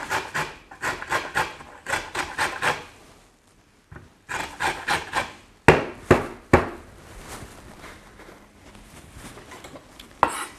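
A lemon scraped against a hand grater for its zest, giving close, rhythmic rasping strokes in quick bursts separated by short pauses, with a few sharper scrapes toward the end.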